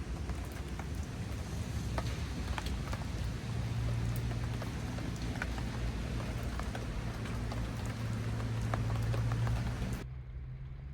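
Steady rain falls at a campsite after a storm, a dense continuous patter on surfaces close by that holds evenly throughout, then cuts off abruptly near the end.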